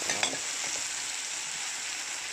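Noodles with wild mushrooms and garden vegetables stir-fry in a pan, giving a steady bright sizzle with a couple of brief utensil scrapes near the start, close and moderately quiet.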